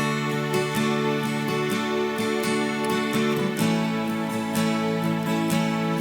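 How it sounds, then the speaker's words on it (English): Strummed acoustic guitar chords ring out in a steady rhythm within a full, bright music mix, with no voices. "the acoustic guitar sounds like,"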